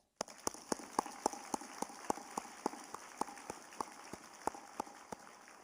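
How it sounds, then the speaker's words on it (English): Applause from a large audience at a university commencement ceremony, with dense steady clapping and sharp louder claps standing out throughout. "Please join me to give your parents the biggest round of applause."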